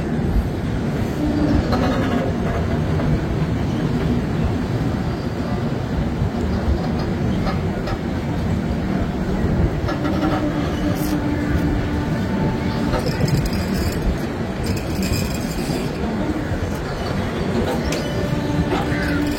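The Guwahati Garib Rath Express runs on after leaving Kishanganj, its steady rumble and wheel clatter heard from inside a carriage, loud and unbroken throughout.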